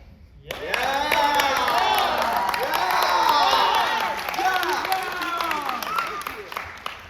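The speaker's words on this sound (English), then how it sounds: "If he's warm, you'll clap and say yeah." A school-play audience claps and cheers together in a loud, sustained burst of applause with excited shouts, starting abruptly and tapering off slightly toward the end.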